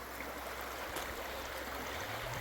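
The Matanuska River, running clean early in the season, rushes in a steady broadband wash of flowing water, continuous and fairly close, with no talking.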